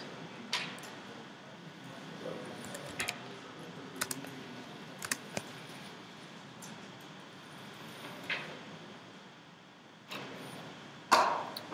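A computer keyboard is tapped in sparse, scattered bursts of clicks while web code is typed, with quiet gaps between keystrokes and a louder clatter near the end.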